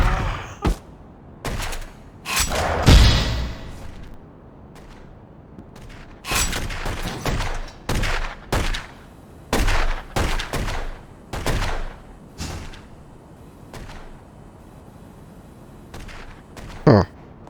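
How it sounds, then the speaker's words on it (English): Bursts of gunfire in The Godfather: The Don's Edition crack out in repeated sharp volleys, some closely spaced and others with short pauses between them, loud and close across the whole stretch. "There's a guy shooting at me."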